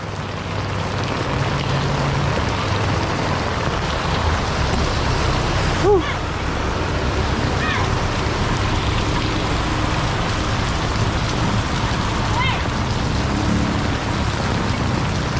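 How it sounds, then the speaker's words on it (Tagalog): Heavy rain pours down steadily and grows stronger, a loud, close, continuous wash of drops with a brief breathy exclamation partway through. "lumalakas pa yung ulan"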